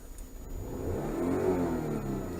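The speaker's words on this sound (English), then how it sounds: "rev my engine" A Jaguar X-Type 3.0 petrol AWD engine revs up from idle, its steady mid-pitched roar swelling and holding high for a couple of seconds, close and clear with no talk.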